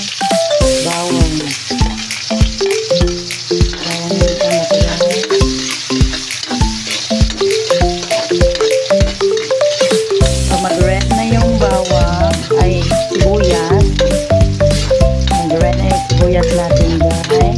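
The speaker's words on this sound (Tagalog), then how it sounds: "Pag mainit na yung mantika guys, ako inauna ko yung bawang" Garlic frying in hot cooking oil sizzles steadily and loudly up close, with a dense crackle and intermittent stirring clatter, growing fuller partway through.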